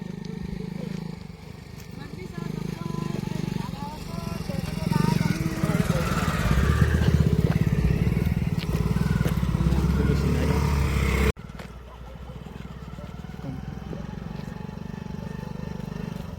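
A motorcycle approaches with a droning engine that swells steadily louder and closer, then cuts off abruptly. A quieter engine hum lingers afterward.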